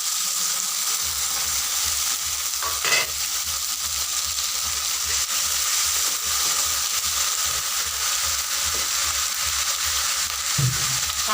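Ground spice paste fries in a pan for an egg curry, a loud, steady close sizzle and hiss with a few stirring clatters, no talking.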